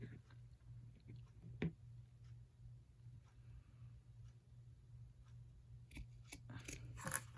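Scissors snip through craft material in a quiet room, with a few faint, scattered cuts followed by a quick cluster of crisp, close snips near the end.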